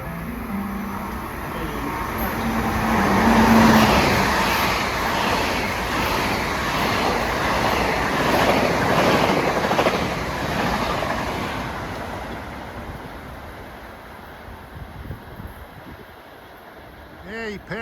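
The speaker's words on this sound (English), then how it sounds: "Train 1722, New York Huntington. You'll be blowing on by." Long Island Rail Road train 1722, New York to Huntington, blows through the station without stopping on the Carle Place/Mineola triple track on a damp day. A loud rushing roar swells, holds, then fades away.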